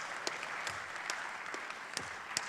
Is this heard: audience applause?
yes